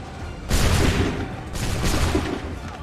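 A musket volley fired on command in Assassin's Creed III erupts as a dense, rolling crack of many simultaneous shots, followed by a second ragged burst and lingering rumble.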